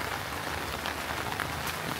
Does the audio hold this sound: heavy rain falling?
yes